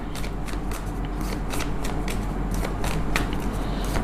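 Tarot deck being shuffled by hand, rapid riffling card flicks in quick irregular bursts, close and clear over a low steady hum, with no speech.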